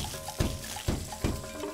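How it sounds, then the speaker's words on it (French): A water hose sprays rhinoceroses at a zoo, making splashy, spattering water noise with a few heavier surges at regular intervals, close and moderately loud. "on prend le jet d'eau, on va pas les tremper tout de suite parce que faut pas leur faire peur"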